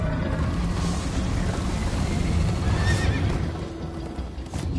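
Video game horse from Minecraft Story Mode neighs and gallops in a steady, dense stream of sound with a brighter whinny partway through, with no talking.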